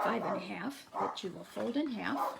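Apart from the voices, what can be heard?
dogs barking at something in the neighborhood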